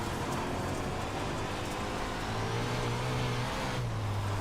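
World of Outlaws race car lapping the track at Huset's, a loud continuous engine roar that holds steady, then drops in pitch near the end.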